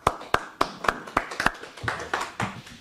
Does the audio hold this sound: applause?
yes